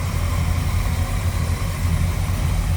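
A 1955 Chevrolet 210 two-door post with a Holley 4-barrel carburetor idles smoothly, giving a steady, low, even rumble that runs close and unbroken with no voices.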